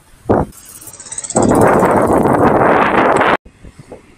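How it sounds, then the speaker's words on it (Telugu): Heavy wind buffets the microphone on a bicycle ride, a loud continuous rumbling roar that fills most of the clip after a brief gust at the start, then drops away abruptly near the end. "గాలి బాగా వస్తుంది, చూడడానికి కష్టమవుతుంది."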